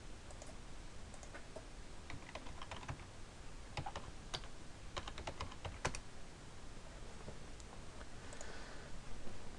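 Typing on a computer keyboard while entering a password to log into a website: a quiet run of irregular light key clicks, close and alone over a faint room hiss.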